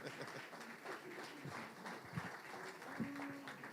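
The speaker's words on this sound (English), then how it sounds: "You can clap." Audience applause at an ice hockey all-stars team selection show, a steady wash of clapping from a crowd lasting several seconds at moderate distance, with no clear voices over it.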